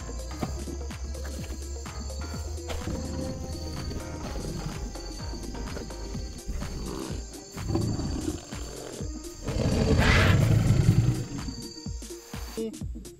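A toy lion gives a loud electronic roar that swells around the middle and peaks near the end, with clattering handling noises and a steady background hum underneath.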